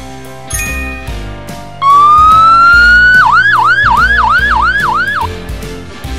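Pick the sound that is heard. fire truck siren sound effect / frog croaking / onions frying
fire truck siren sound effect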